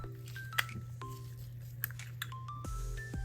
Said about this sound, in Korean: 윗뚜껑 열고 분리해요.